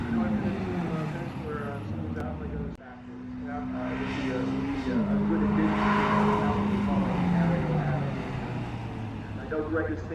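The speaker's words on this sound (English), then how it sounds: "love the way S2000 sounds" A Honda S2000 race car's engine screams on a road course during a time trial, its pitch climbing and falling through shifts, loud and continuous with tire squeal and other cars around.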